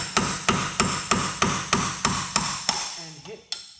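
Steady hammer blows drive a punch against a wheel hub axle nut to knock the axle out, about eight evenly spaced sharp metallic strikes, close and loud, followed by a brief clatter and a final knock.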